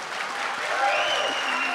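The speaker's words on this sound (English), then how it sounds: "Just clap if you know who Del Close is." A short, loud burst of audience clapping in a comedy talk venue, with a dense wash of hands and a voice faintly audible over it.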